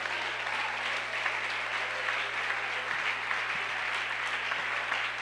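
Steady congregation applause fills a church, dense continuous clapping from many hands at a constant level with no pauses.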